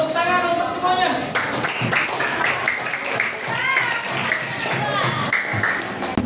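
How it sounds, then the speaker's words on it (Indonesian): Children in a classroom clap together in a scattered burst of hand claps, moderately close, mixed with a teacher's voice and children's chatter throughout. "Tepuk tangan untuk semuanya."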